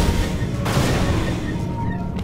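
Gunfire from weapons in the first-person shooter Unreal Gold, a dense continuous barrage of blasts and booms with no clear gaps, loud and steady throughout.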